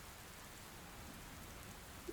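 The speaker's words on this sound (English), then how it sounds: "Rain falls from the same cloud," Rain falling as a soft, even hiss, faint and steady throughout with no distinct drops or voices.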